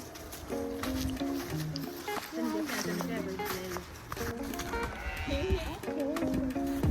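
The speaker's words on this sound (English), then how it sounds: "There's sheep over there." Several sheep bleat repeatedly nearby on a Canadian farm in early spring, overlapping in a noisy chorus, with footsteps and occasional voices mixed in.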